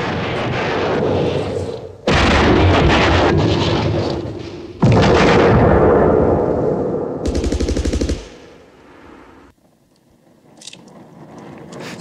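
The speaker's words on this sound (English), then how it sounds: "When the grenades explode, the camera records the ground tremor." Grenade explosions and heavy gunfire from the Polish war film Westerplatte, loud booming blasts and dense rattling fire in long roaring stretches with abrupt cuts, trailing off to quieter rumble near the end.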